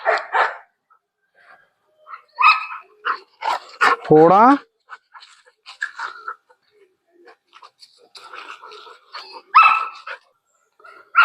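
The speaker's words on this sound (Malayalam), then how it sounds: "ലൂസി കിടന്ന് കുരയ്ക്കുന്നു" A dog barks repeatedly outdoors, mixing sharp barks, yips and a whimper, while a person speaks over and between the barks.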